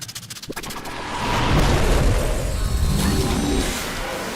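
A grenade goes off in Destiny 2 with a heavy boom that follows a few sharp shots, then a sustained rumbling roar of blast and chaos that lasts for several seconds.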